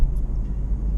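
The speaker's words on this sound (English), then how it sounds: "When you press it, you can really hear the engine noise" A Suzuki Vitara's engine accelerates in a low, steady rumble, heard from inside the car, close and fairly loud with no talk over it.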